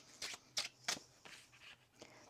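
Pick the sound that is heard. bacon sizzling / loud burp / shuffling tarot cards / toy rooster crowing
shuffling tarot cards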